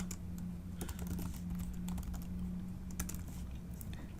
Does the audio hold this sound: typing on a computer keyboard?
yes